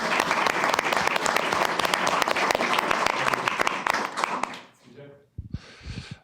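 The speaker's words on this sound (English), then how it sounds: "We can applaud." A room full of people claps for a 25-year employee award at a city council meeting in Oldsmar, with dense, lively applause for over four seconds that then dies away into scattered voices and movement.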